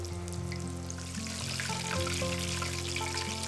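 A pork chop about 1.5 cm thick deep-frying in hot oil, a dense steady sizzle and crackle with faint bubbling, close and continuous, no talking.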